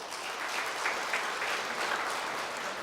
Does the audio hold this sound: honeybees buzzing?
no